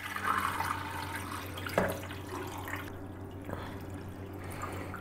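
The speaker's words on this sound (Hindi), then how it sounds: "इसके बबाद इसमें डालूँगी मैं 6 to 7 ग्लास पानी के" Several glasses of water poured into a cooking pot for hot and sour soup, a moderate running, splashing pour with a brief clink, close by and without talk.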